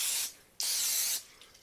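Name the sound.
cooking spray sprayed onto a waffle maker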